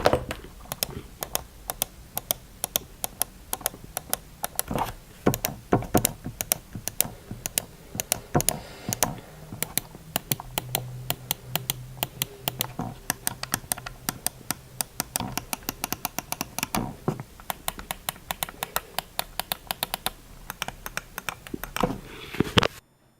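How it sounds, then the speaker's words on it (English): A Mars Gaming MM318 computer mouse is clicked repeatedly up close, sharp crisp clicks in irregular quick bursts with short pauses, alone and fairly faint. "for those of you that like to hear the clicks of the mouse, I'm gonna give it a bit of a preview up close"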